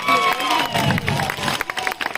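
An audience at a live Odia comedy show at a village festival breaks into a burst of clapping and crowd noise that thins out into scattered claps, fairly loud and close.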